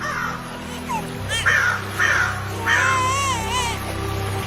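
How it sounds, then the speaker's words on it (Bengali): Crows cawing outdoors, a few loud harsh caws in a ragged sequence over a low steady background hum, no speech. "আবার দেখছি আকাশে কিছু কাক ডাকছে"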